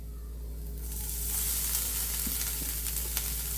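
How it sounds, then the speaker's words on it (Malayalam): Grated coconut roasting in a hot pan for a prawn chammanthi, a steady soft sizzle that swells slightly as it cooks, with a few faint scrapes and ticks and no voices. "ഇനി നമുക്ക് ഇതിലിട്ട് നാളികേരം വറുത്തെടുക്കണം"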